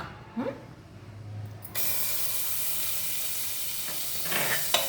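Butter with some moisture in it starts sizzling in a pot with a sudden steady crackling hiss that continues loudly, with a few scraping clinks near the end.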